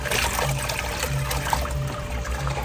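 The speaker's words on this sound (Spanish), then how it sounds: "Estamos agarrando agua de aquí del mismo tanque." Water drawn from a tank for betta fish containers trickles and pours steadily at close range, a continuous liquid splashing with a low hum underneath.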